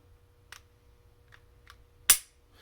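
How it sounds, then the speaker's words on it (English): A few faint clicks tick in near silence, then one sharp, crisp metallic snap of an upgraded striker-fired pistol trigger releasing up close, with a pre-cocking striker feel. "Still has that pre-cocking the striker sound"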